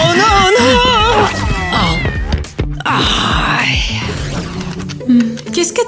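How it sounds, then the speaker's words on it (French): Cute kittens meow in a survival video game, several high wavering cries in quick succession over the first seconds, with other voices and game sounds crowding in afterward. "J'allais te présenter mes mignons petits chatons."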